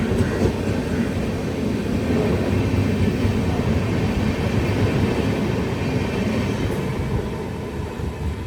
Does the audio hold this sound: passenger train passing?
yes